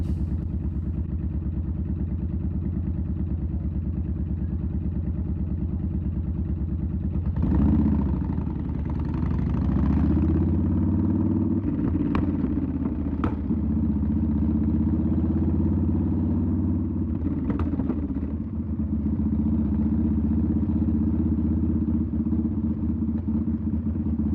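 Yamaha Warrior 1700 motorcycle with Cobra Long Shots exhaust, idling with a steady low rumble, then revving and pulling away from a red light. A few sharp throttle blips lift its loud, close engine note before it settles into a sustained drone.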